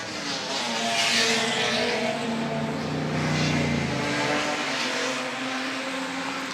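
Historic racing cars, including an Aston Martin, roar past on track during the Freddie March Trophy race at the 2016 Goodwood Revival, their loud engines swelling and fading close by with tyres squealing.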